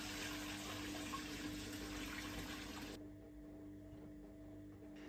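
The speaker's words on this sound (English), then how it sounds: "With help of bowl and colander, I pour alcohol from the jar." Homemade rhubarb alcohol pours from a jar through a colander into a bowl, a faint continuous trickling and splashing of liquid heard up close that softens partway through while a thin steady hum runs beneath.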